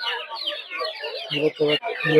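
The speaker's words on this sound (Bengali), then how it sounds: "কৃষকের দিকে দেখতে পাচ্ছেন দেশি মুরগির বাচ্চা ইহাতে প্রচুর পরিমাণে আপনারা দেশি মুরগির বাচ্চা পাবেন" Local chicks and hens at a rural poultry market, a busy chorus of high peeping and clucking with a few louder, lower clucks toward the end, close by and continuous.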